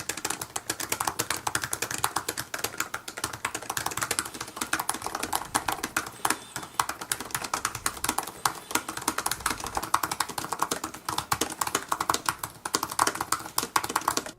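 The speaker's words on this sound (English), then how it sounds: "let's go ahead and take a listen to the keyboard in action" Rapid typing on an Apple MacBook 12 inch 2017 keyboard, a dense, continuous stream of light crisp key clicks close to the mic, with no talking.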